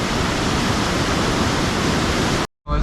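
Rushing water of a flood-swollen creek in the Hawkesbury Valley roars as a dense, steady, close wash of broadband noise that cuts off abruptly near the end.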